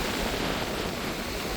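Rough sea driven by strong wind at Point Pedro, Jaffna, surges over the shore and pushes foam onto land. A steady, loud roar of surf and wind fills the whole moment without pause.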